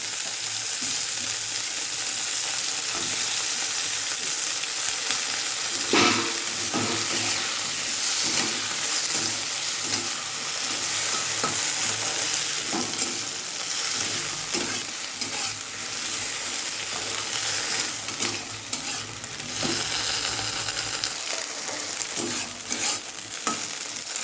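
Okra and potato fry in a pan with a steady, loud sizzle and hiss, while a spoon or spatula scrapes and stirs in irregular clacks throughout.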